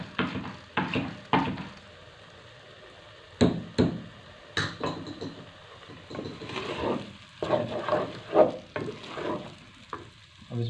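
Semolina roasting for shahi suji and egg halwa is stirred in a pan with a spoon, giving soft sizzling and dry scraping, punctuated by sharp knocks against the pan in irregular bursts, close and fairly quiet.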